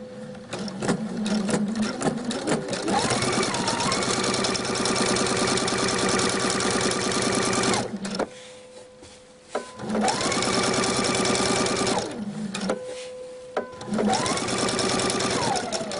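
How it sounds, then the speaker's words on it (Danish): A sewing machine runs in long steady bursts while decorative topstitching is sewn along a facing on a tunic shirt, pausing briefly between runs with the needle stopped; the motor whirs loud and close with no talk over it. "Så jeg bruger simpelthen slisbelægning som skabelon til at lave min pyntestikning."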